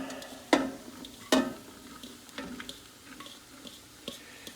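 Sliced cremini mushrooms, a full pound, hit a hot pan and are stirred, giving soft sizzling with a few sharp scraping clicks and taps, close and moderately quiet, with no talking.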